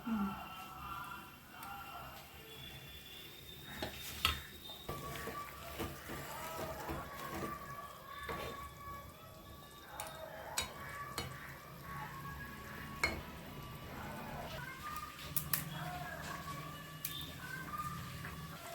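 Leftover oil from frying fish sizzles faintly in a pan while fish-bone curry is being made, with scattered stirring clicks and scrapes over the steady low frying hiss.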